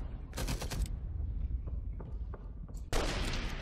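Rifle fire in the World War II shooter Enemy Front: a rapid burst of shots near the start and another loud volley near the end, with fainter scattered pops and low battle rumble filling the gap.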